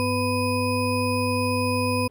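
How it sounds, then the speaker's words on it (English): A steady test chord made in Audacity plays back through a Tascam 424 mkII cassette Portastudio, a sustained stack of pure tones held evenly for about two seconds before cutting off abruptly. "What you're hearing is a test tone, really a test chord that I created using the tone generator in Audacity."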